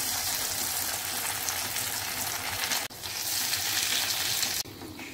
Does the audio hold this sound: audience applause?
no